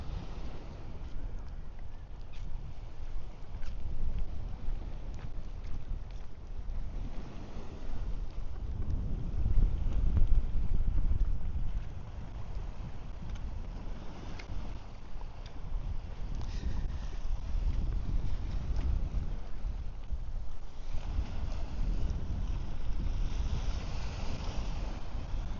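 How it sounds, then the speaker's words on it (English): Waves wash in steadily at a seaside park on a morning walk, a low continuous rumble of surf mixed with wind buffeting the microphone, no voices. "I love that wave sound."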